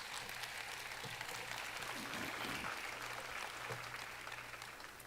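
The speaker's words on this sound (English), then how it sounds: "Let's give all of our participants a round of applause." An audience at a Randolph County event claps for the participants: a steady, muffled wash of applause sounding distant and low in level, with a faint constant hum underneath.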